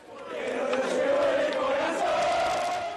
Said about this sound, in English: Fans gathered outside a private clinic in Buenos Aires to cheer his name after hearing surgery.